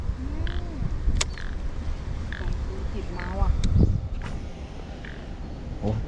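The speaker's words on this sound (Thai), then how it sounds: "เสียงเขียดร้องอยู่เนี่ย" Small frogs croak by the water of a fishing pond at night, with scattered, chirpy croaks over steady outdoor background noise and no clear talking.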